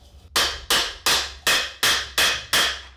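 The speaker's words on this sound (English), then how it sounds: "where you're getting metal on metal or tool on tool and no air in between" A planishing hammer rings out seven times, metal striking metal with no air gap, each blow a bright, sharp clang that decays quickly, spaced at a steady rhythm about half a second apart, close and loud with no talk.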